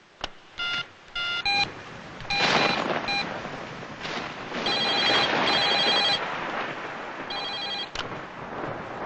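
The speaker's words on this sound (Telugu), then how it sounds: "మిస్టర్ గుప్తా ఫోన్ చేశారు." A telephone rings in repeated bursts of electronic trilling, several rings separated by short pauses, with a ringtone-like tone and some rustling in between; the sound is moderately loud and close, with no talk.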